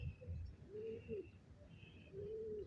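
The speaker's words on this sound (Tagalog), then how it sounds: "Nasa malapit na yung mga kalapati namin" Racing pigeons coo softly nearby in a few drawn-out, low warbling calls, faint and quiet against a background hiss of rain.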